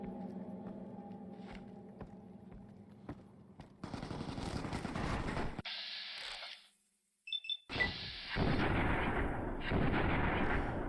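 Gunfire in a wasteland survival video game: sharp shots then loud sustained bursts, separated by a short quiet gap with a faint metallic ping, all close and loud with no talking.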